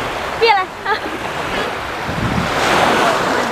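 Ocean waves breaking on a beach, a broad rushing surf wash that swells toward the end, mixed with wind buffeting the microphone, with brief voices early on.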